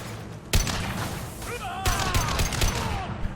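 A shotgun fires in Mass Effect 2, several sharp, loud blasts spaced unevenly amid other combat noise, with a voice heard now and then.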